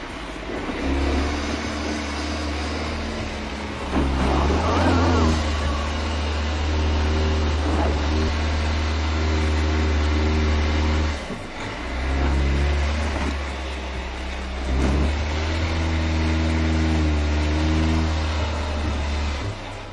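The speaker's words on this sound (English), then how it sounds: "The car pushes back to try to pass the obstacle using the momentum." A Land Rover off-road SUV engine revs hard while the vehicle pushes at an obstacle using momentum. The engine note is loud and sustained, surging in several bursts with brief dips between them.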